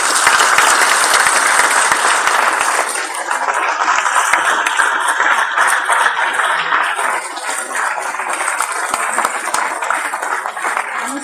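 An audience at a lecture on Europe and migration breaks into loud, dense applause that fills the whole stretch, easing slightly but continuing throughout.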